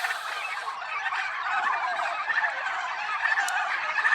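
A flock of farm turkeys gobbles continuously in the morning, a busy, fairly close warble of overlapping calls with no talking.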